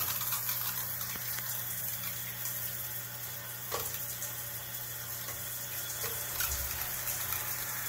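Water streams steadily from a Lorenzetti Turbo Jet electric shower boosted by its built-in pressurizer, a constant broadband hiss and spray with a faint low hum and one or two small knocks, no voices.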